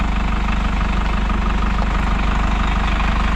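An Isuzu NPR turbo diesel truck engine idles steadily and loudly right after its first start, a constant low rumbling drone with even vibration and no talking.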